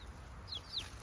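Rooster and hens in a backyard chicken coop, soft clucking with a few brief high calls, faint and fairly distant over steady background noise.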